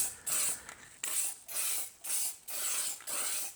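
Aerosol spray paint applied to a metal switch cover for an oil rubbed bronze finish, six short close hissing bursts in a quick even rhythm with brief gaps between.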